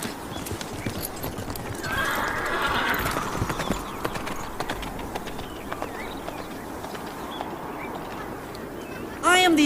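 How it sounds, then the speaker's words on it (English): Steady clip-clop of horse hooves with a horse whinnying partway through, and people speaking over it. "Hurry! Take my horse!"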